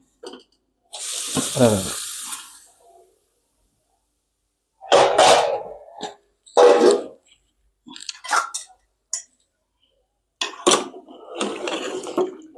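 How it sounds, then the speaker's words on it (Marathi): Hot water poured into village-style chicken sukka rassa cooking on a very hot pan, heard as short bursts of pouring, splashing and sizzle separated by stretches of silence. "आता आपलं पाणी गरम झालेलं आहे आता आपण याला चिकनमध्ये सोडून देऊया"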